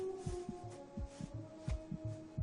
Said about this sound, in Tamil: அது என்னோட ஹார்ட் பீட், நல்லா கேட்டு பாரு.